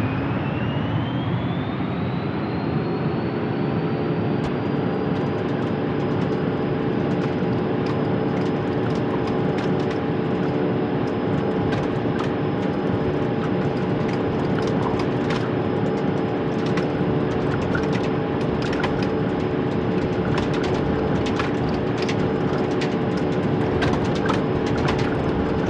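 An airliner taking off from runway 06 right in Real Flight Simulator: a continuous, loud jet engine roar with a steady whine that climbs early and then holds, along with faint rattling bumps. It runs unbroken for about twenty-five seconds with no voices.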